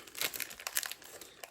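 A ribbon bow is handled and shifted into place, giving soft, close crinkling and rustling in quick irregular bursts, with no talking.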